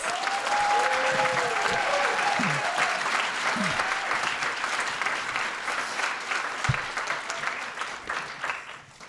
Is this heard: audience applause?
yes